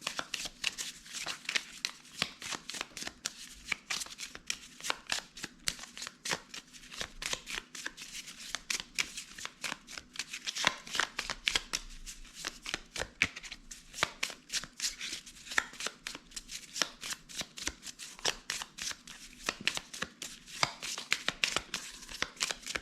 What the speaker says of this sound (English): we're going to take one last card here out of the rune deck